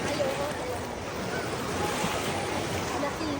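Artificial surf rolls through a crowded wave pool in a steady broad wash of water, loud and continuous, with wind buffeting the microphone throughout.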